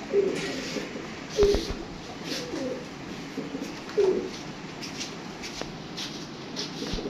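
Pigeons coo softly in a few low, rolling phrases over a steady background hiss, close by, with no one speaking.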